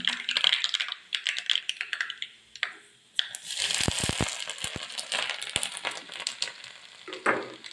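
Mustard seeds splutter in hot coconut oil, producing rapid, irregular clicking pops in close bursts. The pops swell into a dense crackle midway, then thin out again.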